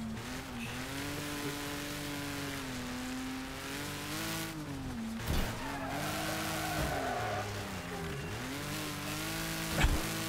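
Cars skid and slide in the Wreckfest demolition derby video game, a steady engine drone with wavering tire squeal throughout and a couple of sharp impact thuds near the middle and end.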